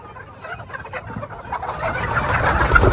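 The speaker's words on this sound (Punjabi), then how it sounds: "ਆਹ ਨੇ ਬਈ ਸੋਨਾਲੀ ਮੁਰਗੀਆਂ" Sonali chickens in a small poultry farm cluck and squawk in a dense, growing flurry as they are caught, the commotion getting louder and busier toward the end.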